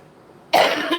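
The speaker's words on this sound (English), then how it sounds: "excuse my coughing, but I'm in the dust from the books, and it causes me to cough" A person coughing from book dust, a single abrupt, harsh cough burst close to the microphone after a quiet moment.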